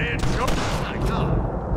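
Gunshots in the Red Dead Redemption video game, several sharp shots in quick succession, close and loud, fading into a dull background rumble.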